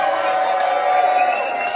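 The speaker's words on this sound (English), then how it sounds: "What a great crowd here in Springfield." A crowd cheers and whoops at a PBA bowling tournament, the Pete Weber Missouri Classic in Springfield, a steady loud roar throughout.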